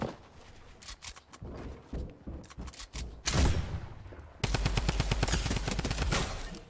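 Rapid bursts of automatic weapon fire from the video game Fortnite, first in scattered short volleys, then a loud sustained stream of shots near the end, with no talking.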